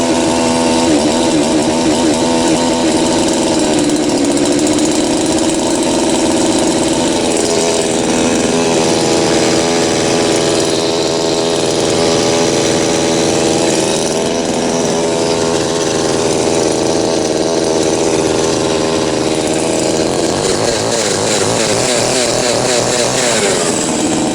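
A brand-new CC Timber Pro chainsaw runs after a cold start, a loud, close, high-pitched two-stroke engine whine held steadily throughout with small rises and dips in revs.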